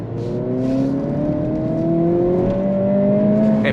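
A 2025 Acura Integra A-Spec engine blips its throttle on a rev-matched downshift, a loud close rising engine note that swells steadily over a few seconds, with no talking.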